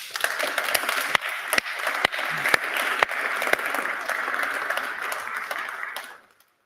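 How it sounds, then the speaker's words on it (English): A large audience at a sports press congress applauds an honoured guest: dense, sustained clapping with a few sharper individual claps, steady and loud throughout, then cutting off abruptly near the end. "we need to give to him a great, great applause that comes from our heart"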